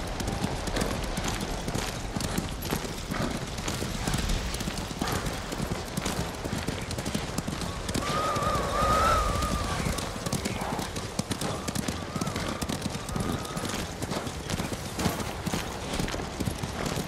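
Horse hooves clip-clop steadily through a ride in Ghost of Tsushima, a continuous trotting rhythm under ambient game sound, with a brief louder swell midway and a faint whinny-like tone.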